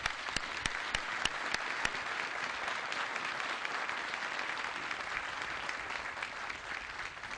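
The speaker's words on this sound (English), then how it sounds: "please join me in giving them a huge round of applause" An audience at a military relinquishment of command ceremony applauds, steady dense clapping with a few sharp nearby claps at the start, holding evenly throughout.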